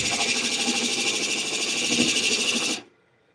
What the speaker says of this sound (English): So I know I'm using a scraper right now.